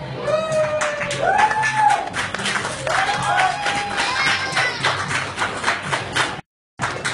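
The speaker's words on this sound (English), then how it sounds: "Can I get a round of applause for the Barnlight?" Scattered clapping from a small gathering at the Barnlight during a live-streamed tech meetup, with people talking and calling out over the claps before it cuts off.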